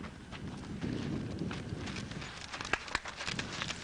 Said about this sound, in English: That horse is wild.